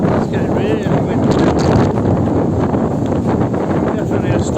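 Strong gusting wind ahead of a storm buffets the microphone while walking outdoors in Gibraltar, a loud continuous roar with rumbling surges.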